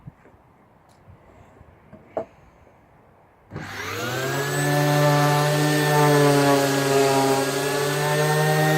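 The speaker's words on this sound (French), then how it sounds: "un chevron qui était au départ en bois brut où j'ai mis un coup de rabot à bois dessus et donc je vais le poncer" Bosch GEX 125-150 AVE random orbital sander starts up after a few quiet seconds with faint handling clicks, then runs with a loud, steady whining hum against a planed wooden rafter, close and alone.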